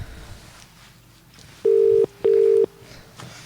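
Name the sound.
English telephone dial tone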